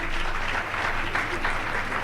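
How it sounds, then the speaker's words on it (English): A room full of people at an International Women's Day event applauds together, dense steady clapping filling the short stretch without a break. "we can all applaud them"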